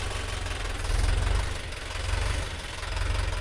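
Tractor engine running steadily with the PTO gear engaged to drive a crop sprayer, a low, throbbing idle-like rumble with faint knocking that swells and eases slightly, heard alone without talk.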